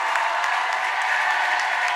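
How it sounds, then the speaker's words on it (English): A crowd at a high school volleyball senior night applauds and cheers, a dense, steady wash of clapping that is loud and continuous throughout. "as the crowd comes alive"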